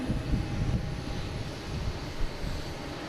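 Blue Condor airliner at Boston Logan, bound for Frankfurt, its jet engines giving a steady deep rumble with slight swells, fairly close and unaccompanied by speech.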